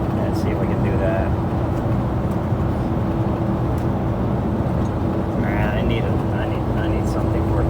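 A semi truck's diesel engine drones loud and steady throughout as the driver downshifts into ninth gear, a constant low rumble with a sustained hum and no clear break, with a voice talking over it.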